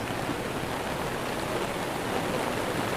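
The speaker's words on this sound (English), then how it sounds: "That is some serious hail." Dense hail pounds steadily at a mountaintop finish during a Vuelta a España stage climbing from Andorra la Vella to Cortals d'Encamp, a loud, unbroken hiss that sounds like heavy rain on hard surfaces.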